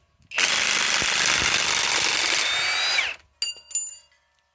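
A Harbor Freight Hercules cordless drill drives a screw with a loud, continuous high whir for about three seconds, then stops. Two short follow-up bursts of the motor come after a brief pause.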